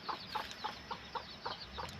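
Bantam chickens cluck in a quick, even series of short calls, moderately close, with a faint background hum.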